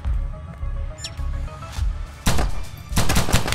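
Rapid bursts of weapon fire in the video game From Space, several loud sharp volleys over a steady low background hum, with a brief electronic chirp earlier, and no talk.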